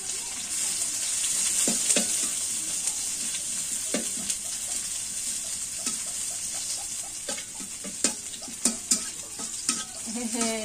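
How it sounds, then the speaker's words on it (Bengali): Two dried red chillies frying in a pan for a mashed chilli-onion bharta, a steady sizzle with stirring and scraping clicks that grow sharper toward the end, close by, with no talking. "শুকনা মরিচ দুইটাই ভাজি করতেছি"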